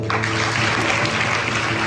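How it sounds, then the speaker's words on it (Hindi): A church audience at a children's Vacation Bible School skit claps together, a dense, steady burst of applause filling the short moment without pause. "आइए हम प्रभु यीशु मसीह के लिए ताली बजाएं।"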